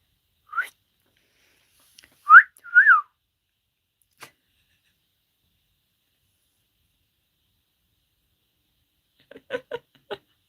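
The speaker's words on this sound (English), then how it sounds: "I hope you enjoy that that's actually how I can whistle." Several short whistled notes from a person, including rising-falling cat-call style tones near the start, followed later by a quick run of faint, clipped whistle-like chirps, with silence in between.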